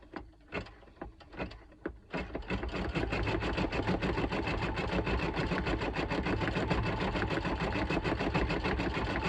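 A computerized embroidery machine stitches a Halloween appliqué design, starting with a few separate mechanical clacks, then settling into a fast, continuous rhythmic needle chatter that is close and steady.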